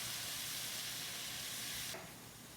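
Onions sautéing in melted butter give a soft, steady sizzle and hiss that fades slightly near the end, quiet and close with no voices.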